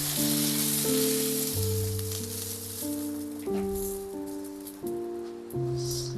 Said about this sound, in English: All this frying of these ingredients will help us to get a lovely fine paste.